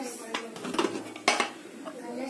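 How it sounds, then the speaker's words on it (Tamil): Metal clanks and scrapes of a pressure cooker lid being handled and pulled open after the steam is released, with a sharper clink midway, close by and fairly quiet. "ஸோ நம்ம இப்போ குக்கரை ஓப்பன் பண்ணலாம்."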